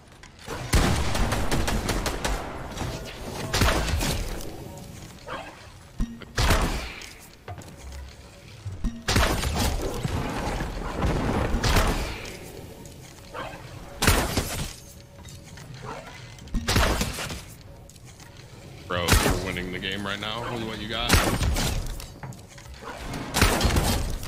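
Boom Bow explosions and gunfire in the video game Fortnite, with loud, repeated blasts, shattering crashes and rapid shot bursts coming in clustered waves across a long stretch of frantic combat.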